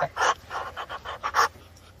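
A pet duck pants rapidly like a dog, a run of quick close breathy bursts in an uneven rhythm, with no talking over it.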